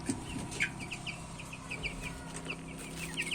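Young broiler chickens about twenty days old, some with a cold, cluck and peep in a repeated, scattered series of soft calls close by inside a coop, with no talking.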